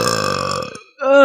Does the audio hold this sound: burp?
yes